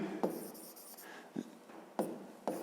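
A pen writes on paper while a fifth-grade math exercise is worked out, giving a few soft scratching strokes with short pauses between them. The strokes are quiet and close, with no talking.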